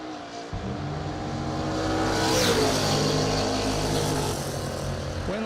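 Two drag racing cars, a BMW and a 1962 Dodge Dart, launch off the line together with a loud, sustained engine roar that swells and rises in pitch before easing off, with no talk over it.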